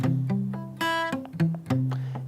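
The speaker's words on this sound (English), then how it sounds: "So just gently place your palm at the saddle here on top of the strings, and you could achieve this effect." Acoustic guitar strummed with a light palm mute at the saddle, a few short damped chord strokes with one brighter open strum in the middle, close and clear with no talk.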